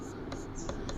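An equation being written by hand in a maths lesson, faint pen strokes scratching in short repeated bursts over a steady room hiss, quiet and close.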